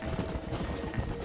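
Horse hooves galloping in the video game Red Dead Redemption, a continuous rapid clip-clop rhythm heard up close with game ambience around it.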